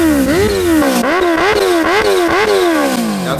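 A motorcycle on the move, captured by a 360 camera: the engine drones loud and slightly muffled, its pitch rising and falling in repeated waves of throttle.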